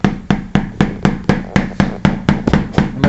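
A screwdriver knocks rapidly against an iPhone fitted with a Ghost Armor screen sticker, a dozen sharp, evenly spaced taps in a steady rhythm, close and loud.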